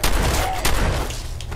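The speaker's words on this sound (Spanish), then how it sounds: "por si acaso ya le meto 3 tiros" A burst of gunfire in the video game Fallout 4, loud close shots cracking in quick succession with a second blast partway through, then a fading tail.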